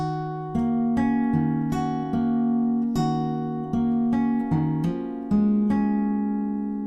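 Opening bar of a song fingerpicked on acoustic guitar, a steady run of close, bright plucked notes with sustained ringing strings, played alone without any talk.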